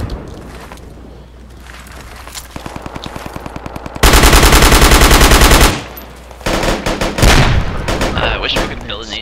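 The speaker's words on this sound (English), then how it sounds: "I'm just shooting randomly" Rapid bursts of automatic gunfire in Project Reality BF2, a Battlefield 2 mod: a stuttering run of shots builds into a loud sustained volley, cuts off, then returns in heavy, close bursts.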